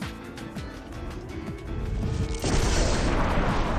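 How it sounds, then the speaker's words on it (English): Explosion in the video game Robotics;Notes DaSH: a loud booming blast with crackling, gunfire-like bursts that builds and swells sharply in the second half, with no speech. "the sound of an explosion hits our ears"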